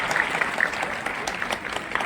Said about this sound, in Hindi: एक बार वो मैडम के लिए तालियां मारिए प्लीज।